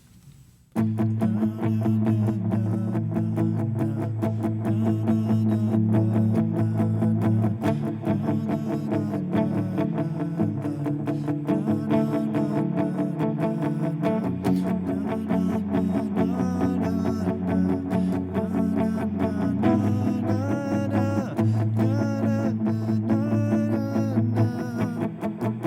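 An electric guitar plays the verse of a worship song with effects, a dense, loud, continuous wash of sustained chords shifting every few seconds, with no talk.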